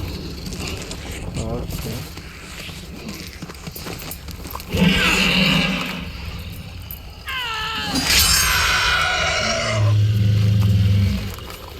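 Horse in The Witcher 3 game, with neighing and whinnying calls rising over game noise and hoofbeats, loud and close, including a long whinny near the end.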